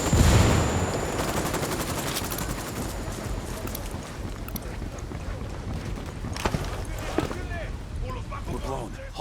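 Gunfire and a grenade blast in the video game Ghost Recon Wildlands, a dense busy battle mix of shots and explosions running throughout at steady loudness, with voices talking over the combat.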